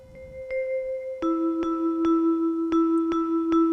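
Bright vibraphone-like keyboard notes ring out one at a time in a slow, even rhythm, each chime sustaining into the next, clear and close.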